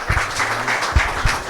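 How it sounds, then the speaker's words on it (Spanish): An audience applauds at a startup pitch session after a presenter is introduced. The clapping is brief and moderate, with a few sharper claps standing out, and the whole burst is short. "Un aplauso, por favor."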